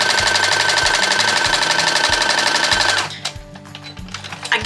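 A sewing machine stitches a fabric strip for a bow tie, a loud, steady rapid mechanical chatter for about three seconds, then stops, leaving a few faint handling clicks and rustles.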